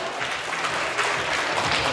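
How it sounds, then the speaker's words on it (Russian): Steady, dense audience applause fills a talent contest hall, a continuous wash of many hands clapping at even loudness with no voices on top. "Аплодисменты, спасибо!"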